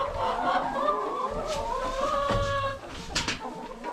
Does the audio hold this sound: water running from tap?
no